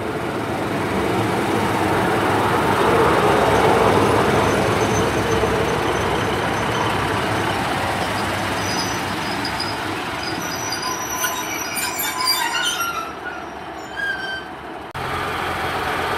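Passenger train pulling into Cathays station on a service from Aberdare, loud rumbling approach with high metallic wheel squeals rising toward the end as it slows.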